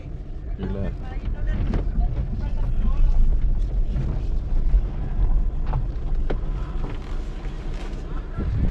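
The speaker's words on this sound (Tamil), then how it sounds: "நல்லா காற்றடிக்குதுங்களா, சத்தம் இருக்குது பாருங்கள், காற்று சத்தம்" Gusty wind at a viewpoint on Chinnakanal Gap Road, Munnar, buffets the microphone with a low, rough rumble that swells and dips continuously, with scattered knocks and rustles mixed in.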